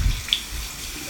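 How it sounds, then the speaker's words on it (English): Warm water runs from a bathroom tap for rinsing the face, a brief, close hiss of flowing water with a small splash near the start and no talking. "now I'm just about to rinse my face with some warm water"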